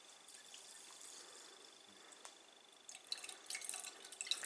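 Water rinsing through soaked sprouting seeds: faint, close dripping and trickling at first, growing into brighter splashes over the last second and a half.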